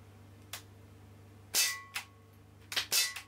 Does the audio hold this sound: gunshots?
yes